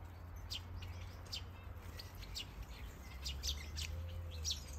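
Finches and softbills chirp and tweet in a large outdoor aviary, many small birds calling at once in quick bright bursts, moderately near over a steady low background hum, with no talking.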